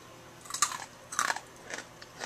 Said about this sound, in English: You can hear that crunch.